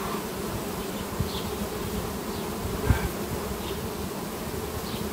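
Honeybees buzz at the hive in a dense, continuous drone close by, with individual bees occasionally whizzing past the mic.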